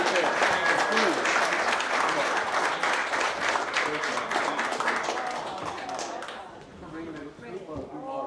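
A crowd at a cannabis summit claps and cheers for about six seconds, a dense, loud wash of applause. It then thins out into scattered claps under murmuring voices.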